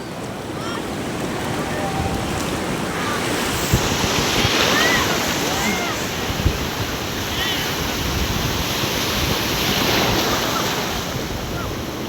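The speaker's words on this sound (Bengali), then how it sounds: "এখন বড় বড় বিশাল বড় বড় ঢেউ আসতেছে একের পর এক একের পর এক" Big sea waves rolling in one after another on Cox's Bazar beach: a loud, continuous roar of surf with heavy wind buffeting the microphone throughout, no clear talk.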